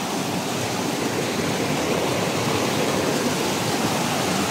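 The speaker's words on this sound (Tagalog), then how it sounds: "Tapos tumatagas pa yung tubig dito." Clear water in a mountain stream rushes and trickles steadily nearby, a dense, even wash of flowing water with no pauses and no voices.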